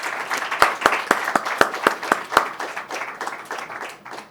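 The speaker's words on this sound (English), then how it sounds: "I think we can give a big round of applause to our panelists." An audience at a panel discussion on India's net zero and development priorities applauds the panelists, a burst of scattered clapping with some sharp individual claps that tapers off over a few seconds.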